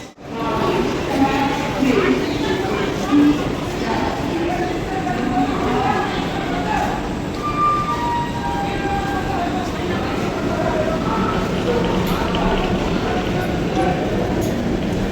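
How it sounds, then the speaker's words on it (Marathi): A train stands at a railway station amid a busy, steady rumble of platform noise, with scattered voices and people talking nearby throughout. "ट्रेन आपली लागलेली आहे आणि आपण आता आपल्या ट्रेनने"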